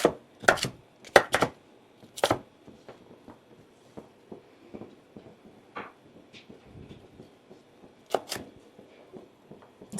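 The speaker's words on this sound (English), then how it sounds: "then it's just easy to get these into diced pieces" A kitchen knife dices pork on a cutting board for Instant Pot jerk pork, giving a few loud, close, sharp chops in quick bursts, then softer, scattered taps with short pauses between them.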